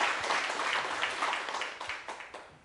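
An audience at an academic science conference applauds to welcome a professor, dense, steady clapping filling the room and tapering slightly toward the end.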